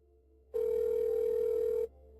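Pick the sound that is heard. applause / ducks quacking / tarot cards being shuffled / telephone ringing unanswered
telephone ringing unanswered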